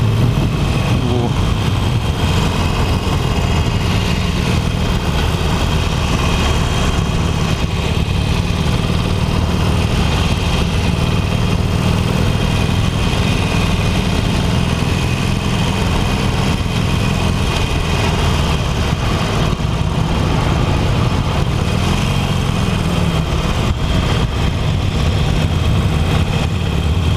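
A Harley-Davidson Iron 883 motorcycle idles with a steady, low, throbbing engine rumble that runs continuously at close range, with no talking over it.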